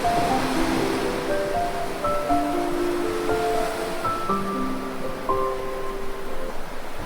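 Ocean waves wash continuously at the seashore in a soft, steady hiss, heard beneath a gentle, prominent melody of sustained tones.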